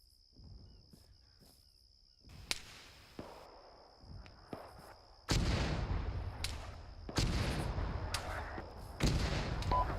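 Mortar fire in the military shooter ArmA 3: several heavy booming blasts at uneven intervals, loud and sustained with rumbling tails, over a steady high insect-like hum, with no talking.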